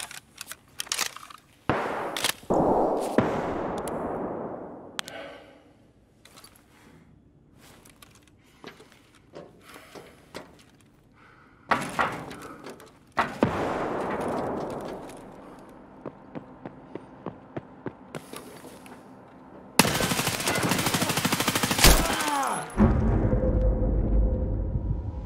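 Gunfire in the video game Escape from Tarkov, several loud sharp shots and short bursts spread across the clip, mixed with footstep-like shuffling and a dense noisy stretch near the end.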